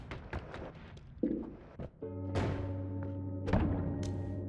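Explosions in the game Noita: several sharp thuds and bursts, then a sustained rumbling blast with a steady low hum, a louder burst near the end, no talk.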